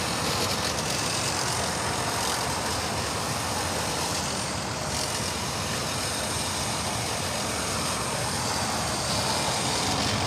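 Boeing 787-8 Dreamliner airliner at LAX, continuous dense engine rumble and hiss at moderate distance, steady throughout, no speech.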